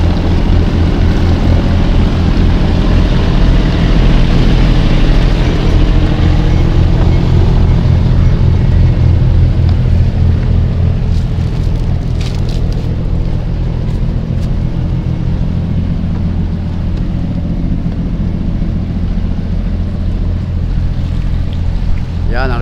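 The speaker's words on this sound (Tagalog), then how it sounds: "dalawang makina ang gumagana natin" Motorboat with twin engines running at an easy pace, a steady deep droning rumble held close and loud throughout, with rushing water and wind noise over it.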